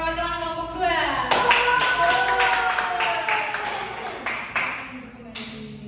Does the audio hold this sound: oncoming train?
no